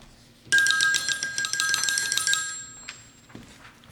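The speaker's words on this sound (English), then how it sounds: "telephone's ringing" A telephone rings with a bright electronic warble lasting a couple of seconds, then fades into a few softer tones in a quiet room.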